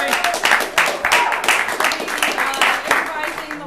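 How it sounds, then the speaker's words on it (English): An audience at an improv theatre show claps for a technician in the booth, a brisk patter of hand claps in uneven bursts with voices mixed in. "Give her a big round of applause, everybody."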